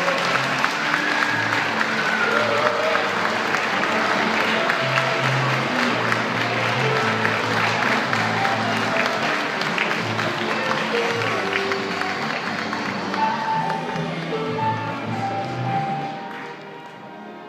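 Wedding guests applaud steadily for the groom's entrance, a long stretch of clapping with music faintly beneath and some voices, fading toward the end.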